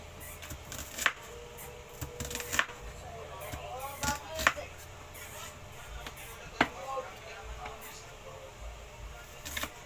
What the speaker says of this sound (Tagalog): Hiwa tayo ng luya. Yan. Tapos sibuyas.